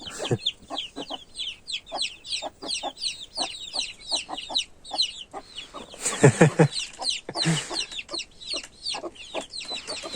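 Dense, continuous peeping of many chicks mixed with lower hen clucks, close by and fairly loud, with no voices.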